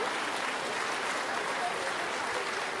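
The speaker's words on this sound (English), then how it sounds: "give him a round of applause in case he's watching" Steady audience applause at a spring orchestra concert, dense clapping from many hands filling the room without pause.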